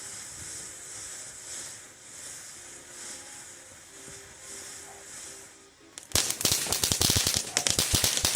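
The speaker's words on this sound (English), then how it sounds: "Next is Cuckoo, a similar fountain with slight differences." A Cuckoo consumer firework fountain hisses in a steady spray for about six seconds, then bursts into a dense, loud, rapid crackling that continues to the end.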